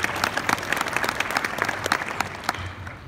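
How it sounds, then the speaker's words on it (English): Steady, dense applause from a banquet audience fills the room, many hands clapping at an even level throughout with no speech over it. "So, a round of applause for them."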